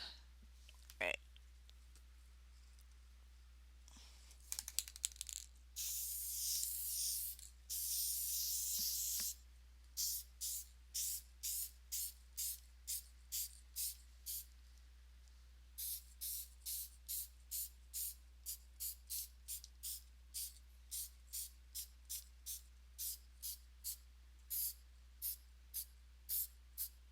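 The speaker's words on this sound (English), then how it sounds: "what I want to mention about this spray fixative too" A spray can of fixative hisses in a bedroom, first in a few longer bursts, then in many short rhythmic spurts, close and clear, with occasional clicks of the can.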